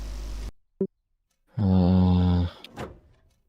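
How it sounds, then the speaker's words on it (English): Bomb bay doors opening in a flight video game: a short click, then about a second of loud, tonal mechanical whirring that stops abruptly, followed by a softer clunk. "what about opening the Bombay doors?"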